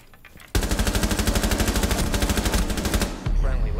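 Sustained automatic gunfire in Rainbow Six Siege, a loud, close burst of rapid evenly spaced shots lasting about two and a half seconds, then stopping abruptly.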